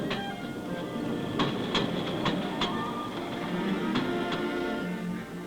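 An old train runs on the single railway at Conakry, Guinea, a steady rolling rumble with sharp metallic clicks and clanks at irregular intervals, moderately close and no voices.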